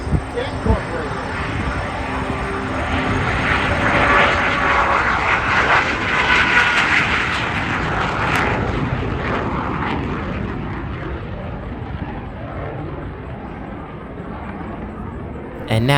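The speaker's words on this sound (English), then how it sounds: "All right, the MiG-17 on its way home." A MiG-17 jet departs an airshow, its broad roaring engine noise swelling and then fading slowly into the distance. An announcer's voice is heard over the roar.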